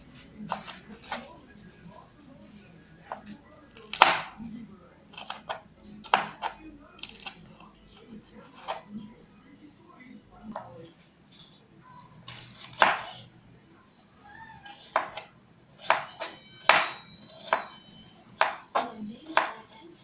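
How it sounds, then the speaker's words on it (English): Onions, tomatoes and green peppers being chopped for a pancake recipe: irregular knife taps on a board, sometimes single and sometimes in quick bursts, moderately close with a quiet room hum in between. "my onion, my tomatoes, and my pepper and green pepper has been chopped nicely"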